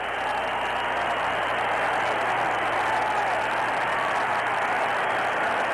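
Boxing crowd roaring and cheering continuously through the tenth and final round of the 1975 Roberto Duran vs Edwin Viruet fight, a dense, steady wash of arena noise with no break.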